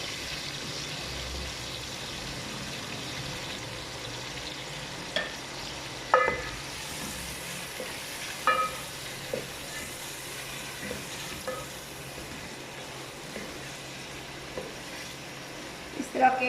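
Meat frying in a pan with nearly cooked onions gives a steady, moderate sizzle throughout, broken by occasional stirring clatters and small knocks. No one speaks.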